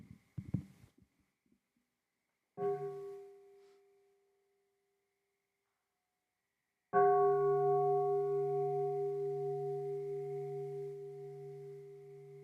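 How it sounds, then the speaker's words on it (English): A meditation bell is struck once softly, then a fuller strike rings out loud and near, its layered tones sustaining and slowly fading for several seconds, heard alone without talk. "We are going to listen to one sound of the bell together."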